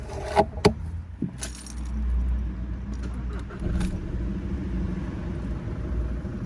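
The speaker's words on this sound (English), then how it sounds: "so we can start the Jetta" Keys jangle and a Volkswagen 2.0 TDI diesel engine cranks and starts after an oil change, then settles into a steady, close rumbling idle.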